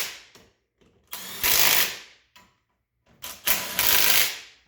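An air impact gun, turned down in power, tightens lift kit bolts on a 2019 Polaris Sportsman 850 HO ATV. Two loud, close hammering bursts of about a second each follow a few short trigger blips, separated by a brief silence.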